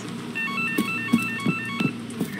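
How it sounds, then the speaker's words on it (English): A telephone rings in the horror game Holstin, repeated electronic trilling tones pulsing steadily at moderate loudness over low ambient game music, with faint thuds in between. "Somewhere there's a phone ringing."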